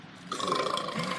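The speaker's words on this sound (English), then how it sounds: "He's burping." A man lets out a single short, loud burp close up, a throaty rasp lasting under a second with no talk over it.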